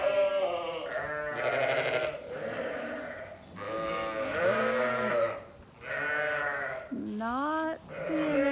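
Sheep and lambs bleat repeatedly near the microphone in a barn during lambing, with overlapping calls of different pitches and short pauses between them.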